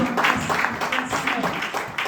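A church congregation applauds in praise, a steady wash of many hands clapping that fills the space, with voices and singing mixed in under the applause.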